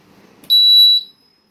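A split air conditioner's PCB control board gives a single loud, clear electronic beep of about half a second as it powers up during repair, ringing alone after a little low background noise.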